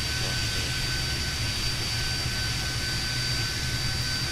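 Jet engine spooling up during start on a Fokker 28 regional jet in a flight simulator game, a steady loud whine and rumble with a constant high tone, continuous throughout with no talking.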